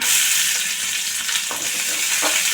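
Onion sautéing in a pan over low flame with cumin, a steady close sizzle with occasional spoon scrapes as it is stirred, no voices.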